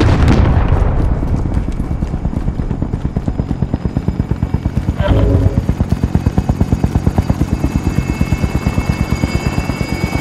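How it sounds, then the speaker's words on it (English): Extraction helicopter arriving in Call of Duty Modern Warfare Plunder, a loud rhythmic rotor chop that grows steady and close, with a brief thud partway through. "Helo is inbound for extraction."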